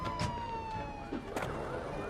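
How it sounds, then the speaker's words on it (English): An ambulance siren from the Roblox Brookhaven video game wails faintly with a steady tone beneath light game clicks and thumps, with no talking. "Good thing the ambulance showed up as soon as he fell."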